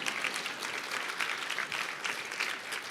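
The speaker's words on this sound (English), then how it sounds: "As you walk on the stage, the crowd will applaud." Steady, dense applause from a conference crowd as a guest walks onto the stage, sustained and even for a few seconds.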